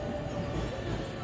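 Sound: JR 289 series limited express train arriving at platform

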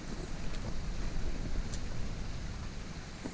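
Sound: waterfall in the Bunya Mountains

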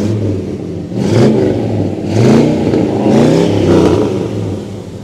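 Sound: hot rod V8 engine revving

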